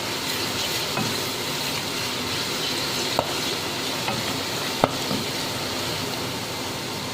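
Puree goes into a beef curry cooking with lauki and chana dal, and the pan gives a steady, loud, close sizzle throughout, with a couple of faint utensil taps.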